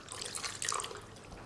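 Plain water splashes into a pan of thick chicken jalfrezi, a brief steady pour with a hissy, bubbling rush.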